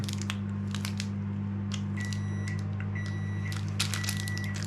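A microwave oven hums steadily at close range, with scattered clicks, clatter and short electronic tones over the constant drone.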